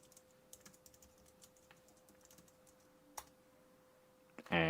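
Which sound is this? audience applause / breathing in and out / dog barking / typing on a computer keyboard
typing on a computer keyboard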